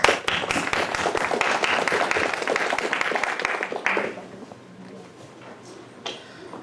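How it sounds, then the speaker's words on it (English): An audience at a university capstone event gives a round of applause, dense clapping for about four seconds that then fades out, leaving a quiet room with a faint later clap. "Let's give them a round of applause"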